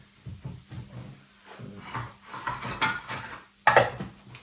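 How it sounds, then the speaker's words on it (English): Plastic lids clicked and pressed back onto containers of gel coat and fiberglass supplies in a workshop, a series of close knocks and taps ending in a louder snap. "Put the lids back on everything"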